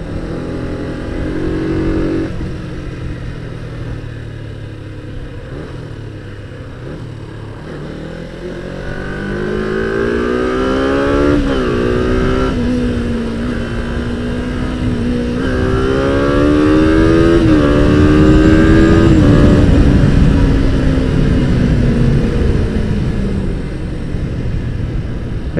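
Kawasaki ZZR 250 motorcycle engine on a test ride, revving up through the gears with rising and falling whine, accelerating steadily and growing louder toward the end, with wind rush and no talk.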